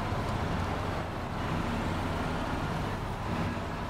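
Diesel engine of a DAN 96320 truck in a video game, a steady, loud low rumble with a constant droning hum running unbroken throughout, no voices.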